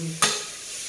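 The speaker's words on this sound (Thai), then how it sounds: "จะผัดให้หมูสุกเลยนะคะ" Pork stir-frying in a pan for dry sukiyaki gives a brief, sharp scrape of the utensil against the pan over a faint low sizzle.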